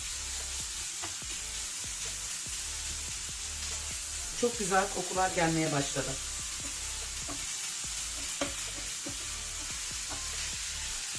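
Karnıyarık filling of onion, garlic and pepper sizzles steadily in a pan, stirred with intermittent scraping clicks while a voice speaks briefly midway.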